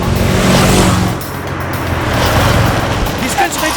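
A car pulls away with engine noise and a passing rush, loud and close, a brief dip before the sound builds again as the vehicle drives off, with voices talking over it.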